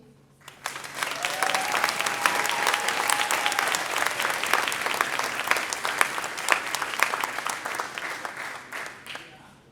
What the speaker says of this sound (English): please give a warm Highland Springs round of applause to Tony B